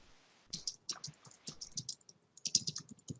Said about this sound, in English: I'm typing it up as well.